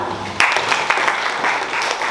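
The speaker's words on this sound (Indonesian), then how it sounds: "Oke, tepuk tangan." Classroom applause in a geography lesson, a short burst of students clapping together that starts abruptly and continues evenly at moderate loudness.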